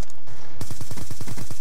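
Rapid automatic gunfire in the video game Call of Duty Black Ops 2, a short quiet lead-in followed by a loud, evenly spaced burst of about ten shots.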